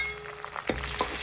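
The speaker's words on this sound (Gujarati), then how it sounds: "આ ડુંગળી સડી ગઈ છે આપણે તો આમાં આદુ લસણ ને બધું નાખી દીધું છે" Onions with ginger and garlic frying in a pan for dal bati masala, a soft steady sizzle with a couple of faint clinks or stirs, close and moderately quiet.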